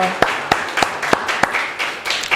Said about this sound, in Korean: 우리와 함께 하신 하나님께 영광의 박수를 드리겠습니다